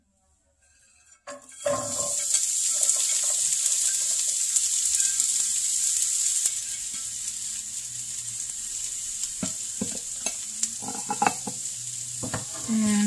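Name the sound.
fresh vegetables dumped into a warm pan, cooking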